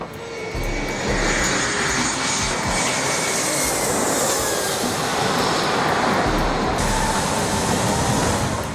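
Roaring jet engine blast at Skiathos Airport in Greece, a loud, sustained wall of broadband thrust noise with deep rumble lasting throughout, steady and close, with no talking.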